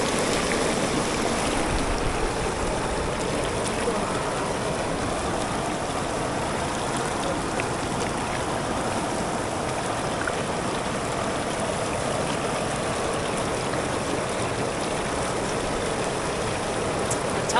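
Clear, cold stream water flows steadily nearby, a constant broadband rushing and splashing that stays loud and even throughout with no talking.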